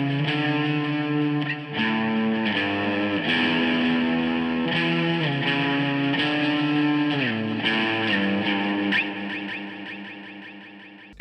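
Electric guitar played through a Spark Mini smart amp with distortion, echo and chorus effects, a sustained melodic line of ringing notes and shifting chords, loud and close with no talking.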